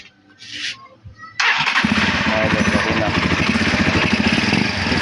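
A Euro 186 motorcycle engine with a repaired grounded ignition switch catches after a brief quiet start and then runs steadily and loud, a dense continuous rumble with a voice talking faintly over it.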